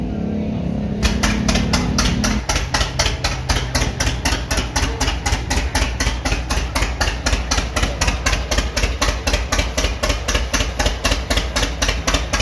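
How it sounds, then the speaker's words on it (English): A John Deere D tractor engine chugs in a fast, steady, even beat after a brief lower rumble at the start, running on without pause, at an antique tractor show. "And that's what a John Deere D sounds like."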